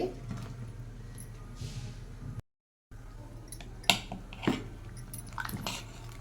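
Chopped vegetable pieces, including brinjal, are stirred together in a large pot for a big batch of Andhra sambar. Soft squishing and light clinks sound close by, with a brief gap partway through and a few sharper knocks near the end.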